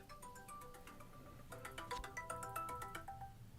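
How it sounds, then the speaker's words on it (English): A mobile phone ringtone plays nearby, a soft melodic chime pattern that starts quietly and grows busier and louder halfway through, repeating tonal notes without any speech. "that was my phone ringing"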